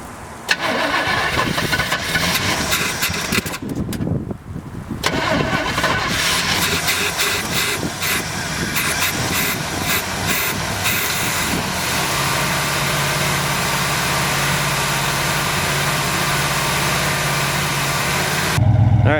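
A 1972 Chevy Chevelle Malibu engine cranks, catches after a brief stumble and roars up loud, then settles into a steady rough idle that runs on with a low droning rumble.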